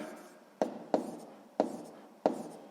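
Quick pen strokes on paper while solving a 6th-grade math exercise with negative numbers: four distinct scratchy taps at uneven intervals, close and clear, each trailing into a brief stroke, with no voices.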